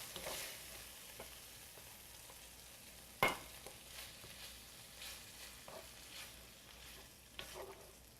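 Mushrooms go back into a pan over lowered heat, giving a quiet, continuous sizzle with a sharp utensil clack and several soft stirring scrapes; no one speaks.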